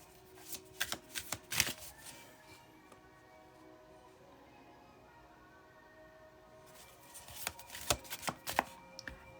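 Rose Tarot cards being shuffled by hand: two bursts of sharp, riffling flutters and slaps, near and clear, separated by a quiet stretch of faint room tone.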